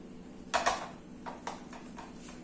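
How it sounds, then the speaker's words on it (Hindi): A boiled egg is grated on a kitchen grater for potato balls, making a few short, soft scraping strokes in an uneven rhythm, close by and faint. "अब ये जो बॉयल अंडा है इसको भी मैं कद्दूकस कर लूंगी।"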